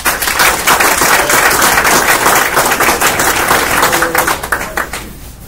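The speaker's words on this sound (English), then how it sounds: "Let's give the awardees a round of applause." A round of applause for awardees at a Field Artillery soldiers' graduation ceremony: loud, dense, sustained clapping from a large crowd for about five seconds, fading out at the end.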